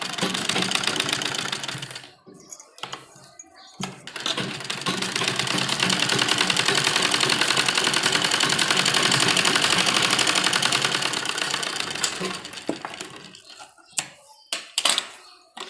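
A sewing machine stitches along the edge of an embroidered net lehenga blouse. It runs in a loud, steady, continuous whir for several seconds, with short bursts and handling noises before and after.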